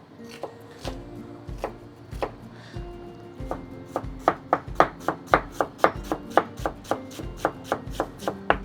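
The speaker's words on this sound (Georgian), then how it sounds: "დაგჭირდება წითელი ხახვი. რაც შეიძლება წვრილად უნდა დავჭრათ." A knife chops red onion finely on a board, making rapid, evenly spaced sharp taps that speed up into a steady rhythm, close and crisp with no voices.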